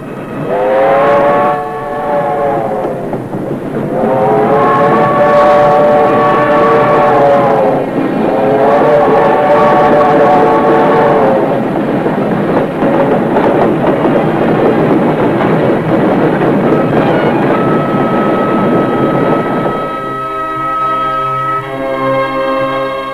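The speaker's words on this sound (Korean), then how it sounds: "기차는 떠나갔습니다" A train departs amid loud, continuous rumbling and clatter, with repeated long horn or whistle blasts early on and a steady high tone near the end, carrying an old, worn recording quality.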